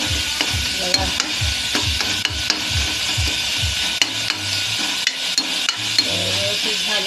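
Masala with cardamom and cloves roasting in oil, a loud close sizzle with a steady rhythm of spoon strokes scraping and clinking against the pan, repeated throughout.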